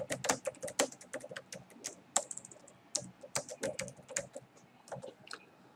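Keys clatter on a computer keyboard in quick, irregular bursts of crisp clicks, close and fairly quiet, with no voices.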